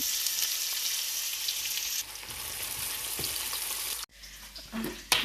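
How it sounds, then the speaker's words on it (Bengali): Onions hiss and sizzle in hot oil in a home kitchen at night, a steady bright crackle that drops in level midway and breaks briefly near the end with a clatter of stirring. "আর একে তেলও গরম হয়ে গেছে, আমি পেঁয়াজ দিয়ে দিতেছি।"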